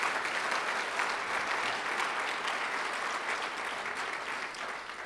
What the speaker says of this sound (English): Please give Sarah a big round of applause.